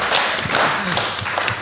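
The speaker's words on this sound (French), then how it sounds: "On applaudit Johnny." An audience at a live audio-fiction podcast event applauding, giving dense, continuous clapping for a couple of seconds.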